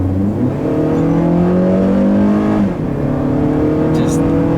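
A 2013 Acura ILX with a 150 hp engine accelerating from inside the cabin: a steady engine drone climbing in pitch, a brief dip as it shifts, then rising again, loud and continuous.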